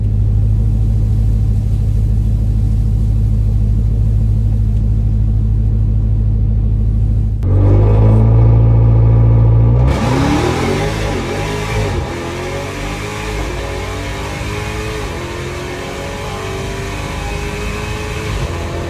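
A Dodge Demon 170 launches on a drag strip against a Tesla Plaid: a deep, loud idle rumble gives way to a sharp rising rev and a roaring, fast-climbing pull that fades slightly as the car moves away.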